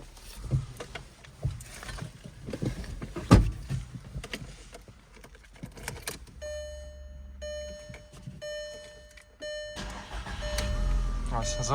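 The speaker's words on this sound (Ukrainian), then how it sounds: "зараз ще заведу авто, побачимо, як він працює" Clicks and handling noises give way to a steady electronic chime, then a nearly cold 2007 Skoda Octavia Tour 1.6 MPI engine turns over and settles into a low idle rumble.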